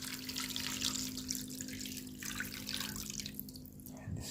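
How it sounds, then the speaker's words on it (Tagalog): Water pours into a cooking pan, a steady close splashing and trickling that fades out near the end. "nilagyan po ng konting tubig"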